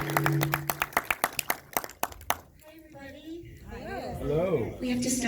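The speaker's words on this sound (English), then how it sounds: "please give a warm round of applause to Leslie Appleton-Young and Sandra." Brief burst of clapping from a conference audience, sharp distinct claps that fade after about two seconds and give way to a person speaking.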